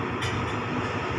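Thai rapid passenger train number 107 pulling away from Chum Saeng station, a steady close rumble of wheels and engine with a brief hiss near the start and no talking.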